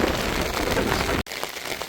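Heavy rain pours on a Jaffna beach as a dense, loud, steady hiss. It breaks off abruptly and then resumes more softly.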